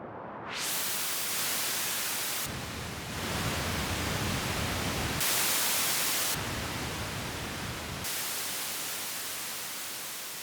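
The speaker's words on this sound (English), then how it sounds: "So you can hear the noise source is really good as well." Steady hissing noise, like static, from the noise source of a Behringer Model D analog synthesizer fills the clip, shifting in tone and brightness in several abrupt blocks, with no voices.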